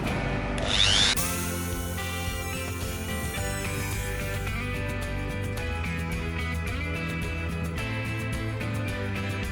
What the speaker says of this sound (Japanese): このリューターにね、先にこの尖ったやつつけて穴開けて木ネジで引っ張ります